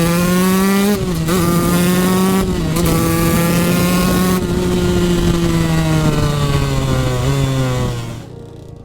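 A 125 DTX motorcycle engine fitted with a 170 Athena kit revs loudly and close up, holding a high buzzing pitch with two brief dips. It then eases off and winds down near the end, with no speech.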